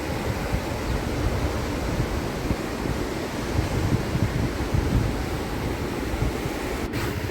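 Ocean surf at the beach behind Shore Temple in Mahabalipuram, a continuous broad wash of waves mixed with wind rumbling on the microphone, steady and fairly loud throughout.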